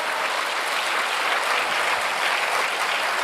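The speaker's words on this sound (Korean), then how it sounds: "성령 하나님께 영광의 박수 올려드립니다." A church congregation claps in a dense, even burst of applause during a worship testimony. The sound is steady and fills the room.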